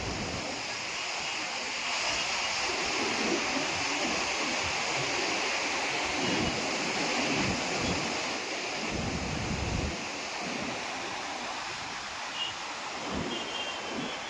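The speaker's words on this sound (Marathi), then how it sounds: "वरतून बघा नदी येते वाहत" The Saraswati river rushes down from above near Badrinath, a broad, steady roar of flowing water with wind buffeting the microphone, loud and constant throughout.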